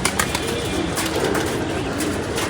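Pigeons coo and flutter in a loft as another male flies in and lands, a steady, close chorus of birds filling the whole stretch with no talk.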